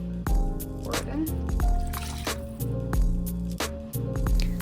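White wine pours into a pot of cooking seafood broth with wet splashing and gurgling, close and fairly loud, the flow starting and stopping in several bursts.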